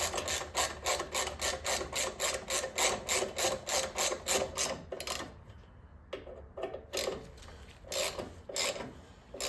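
A ratchet runs in the mounting bolts on Ohlins rear shocks of a 2009 Harley-Davidson Police Special: a fast, even, loud run of rasping clicks for about five seconds, then a few slower, spaced strokes.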